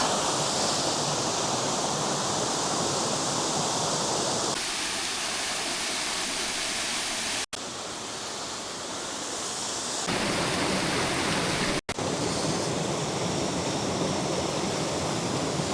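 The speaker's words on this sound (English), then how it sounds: "I'm on the top of waterfall." A Welsh waterfall heard from its top gives a steady, full rushing roar that fills the whole stretch, broken only by two brief dropouts.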